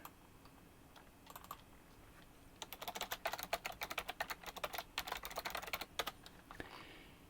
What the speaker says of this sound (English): my keyboard is loud and clacky